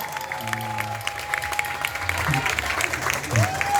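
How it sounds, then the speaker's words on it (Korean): Birthday-party audience applauding a performance troupe, a steady patter of clapping mixed with voices talking and some sustained tones throughout. "박수 한번 주세요."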